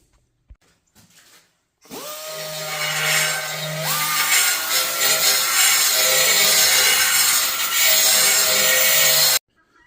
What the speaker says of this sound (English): We have to shave a little bit out of here on all 4 sides, which will allow this to sit down a little further